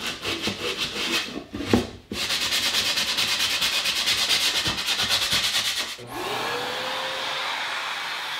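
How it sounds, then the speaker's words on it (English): Sandpaper rubs along the edge of a CNC-carved wooden Christmas tray in close, rhythmic scraping strokes, briefly pausing before a lighter, softer rubbing continues at the end. "just gonna go around with some sandpaper, smooth this edge out"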